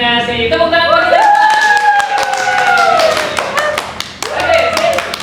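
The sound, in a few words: applause, clapping hands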